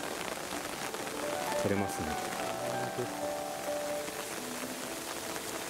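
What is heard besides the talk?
rain falling at a rose garden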